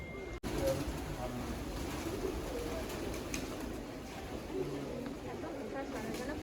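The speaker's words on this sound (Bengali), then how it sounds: "কত পায়রা" Pigeons coo softly in a group during a day trip to Santipur, a low, continuous burbling under background murmur and a nearby voice.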